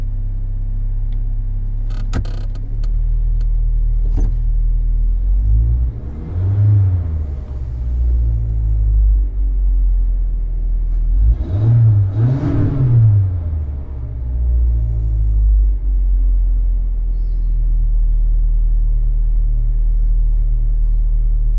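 A car engine idles with a steady low rumble, rising twice into short revs before settling back to a slightly high idle.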